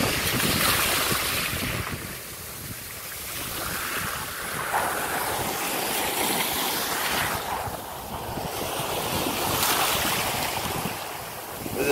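Ocean waves wash steadily onto a shore under heavy wind buffeting the microphone, a continuous loud roar with swells rising and falling.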